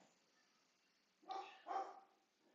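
A dog gives two quick barks in a row, fairly close and sharp, against a quiet indoor background.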